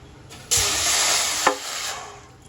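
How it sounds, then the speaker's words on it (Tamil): Water pours into a pan to start sugar syrup for palm jam, a steady close splashing hiss that begins abruptly and runs on with one louder splash partway through. "தண்ணி ஊற்றிடும்."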